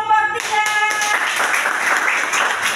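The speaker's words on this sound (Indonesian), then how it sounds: "Tepuk tangan untuk kelompok" Classroom applause for a group that has just finished presenting, a short burst of scattered hand clapping from a small group, following a brief tonal sound at the start.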